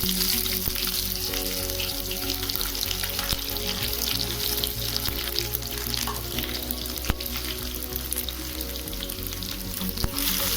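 Sliced onions frying in hot oil with crackled panch phoron, two dried red chillies and a bay leaf, giving a loud, steady sizzle with occasional stirring scrapes throughout.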